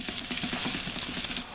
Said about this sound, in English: we're going to saute 1 chopped onion